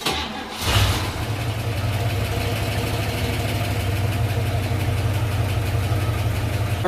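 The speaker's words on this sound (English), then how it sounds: "all we do is let her idle for 15 minutes, and then we drain her down" A 1958 Corvette engine fires up and settles into a loud, steady idle, a continuous close rumble with an even throb and no voices.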